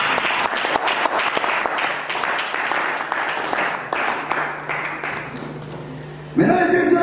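A church congregation applauds in praise, dense sustained clapping from many people filling the room, loud and continuous before a voice cuts in at the end.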